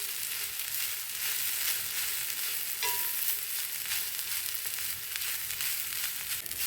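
Carrot and beans thoran sizzles steadily in a pan with light stirring scrapes, a continuous close frying hiss lasting throughout with no voices.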